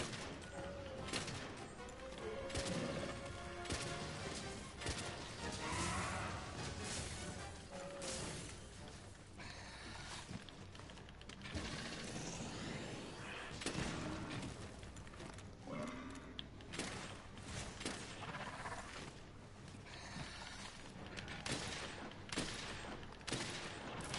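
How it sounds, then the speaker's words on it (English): Shotgun blasts and chaotic gunfire in a monster-hunting video game, dense repeated bursts over a busy, loud battle mix with clattering and crashing effects throughout. "Shotgun."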